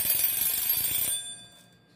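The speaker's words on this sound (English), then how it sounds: "You can hear the bell striking" A Favre Leuba mechanical alarm clock bell ringing rapidly, loudly and close, a fast rattling metallic clang that stops abruptly about halfway through and fades into near silence.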